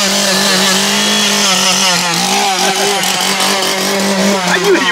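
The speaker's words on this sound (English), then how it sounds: "I really got scared from that first chainsaw" A chainsaw runs loud and close at a Halloween haunted drive-through attraction, with a steady buzzing drone whose pitch wavers slightly as it works.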